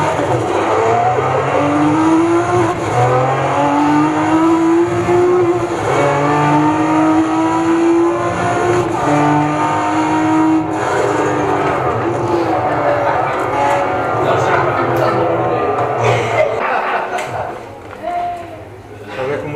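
Race car engine in a racing video game, a loud sustained roar with rising and falling revs and whining pitch sweeps, steady throughout and easing near the end, with voices talking over it.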